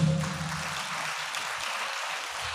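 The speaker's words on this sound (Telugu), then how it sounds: "చప్పట్లు కొట్టండి గట్టిగా" Sunday church service congregation clapping together, a dense steady wash of applause held at an even level throughout, without speech.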